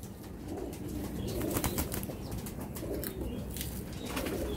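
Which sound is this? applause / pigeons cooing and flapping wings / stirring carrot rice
pigeons cooing and flapping wings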